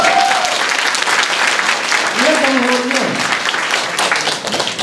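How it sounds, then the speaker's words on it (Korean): A political rally audience applauds loudly and steadily with dense, continuous clapping and a few voices calling out briefly within it. "일단 박수 한번 쳐요."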